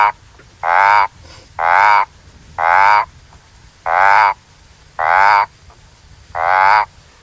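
A frog on an African safari drive at sunset gives a loud, steady series of six harsh croaking calls, each about half a second long and evenly spaced, close and clear over quiet background.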